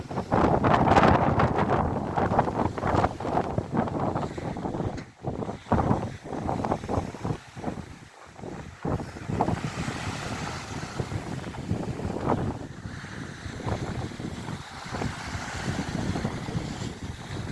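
Strong wind blowing at the seashore by a coast guard building on Pikakari beach, buffeting the microphone in loud, gusty bursts that rise and fall for the whole stretch.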